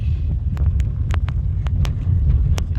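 A vehicle drives on a road between Kudal and Karnataka, its low steady rumble broken by a series of sharp, irregular rattles and clicks as it shakes.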